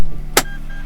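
A Mitsubishi Pajero Sport door unlatches in a single brief, sharp click or clunk, close by, set against a steady low cabin hum with a faint chime tone after it.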